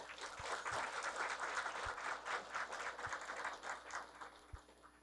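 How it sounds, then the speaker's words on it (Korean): Applause from an audience at a school-violence prevention education talk event in Gwangju, a steady wash of many hands clapping for several seconds, moderately distant and fairly even in loudness. "감사하다는 박수 한 번만 보내주십시오."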